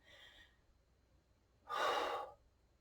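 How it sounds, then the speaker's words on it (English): Two breaths during a slow bicep curl exercise: a faint short breath first, then a louder, clearer exhale a moment later, close and quiet with no speech. "Exhale through that curl."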